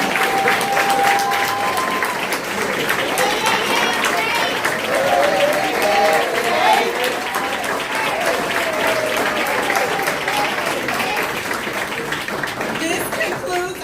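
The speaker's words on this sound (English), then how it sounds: "let's please give our new women's basketball coach Johnette another round of applause." A crowd at an introductory press conference gives a loud, sustained round of applause for Alabama State's new women's head basketball coach, Johnette Hayes, with voices and cheers mixed in throughout.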